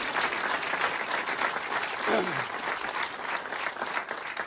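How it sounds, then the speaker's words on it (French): Audience applause at a stand-up comedy show, a steady dense wash of clapping from a crowd that fills the whole stretch with no break, while a voice sounds briefly over it. "vous pouvez l'applaudir aussi"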